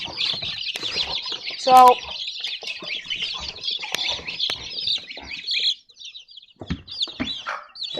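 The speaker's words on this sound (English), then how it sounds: "We got a whole bunch of baby chicks." A whole brood of baby chicks on a farm peeps in dense, high, overlapping chirps, with a brief louder cluck or squawk near the start and a single spoken word.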